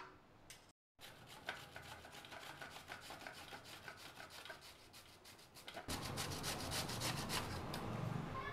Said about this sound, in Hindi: तो देखिए, अब मैं गाजर को इसको खुरच लेती हूँ।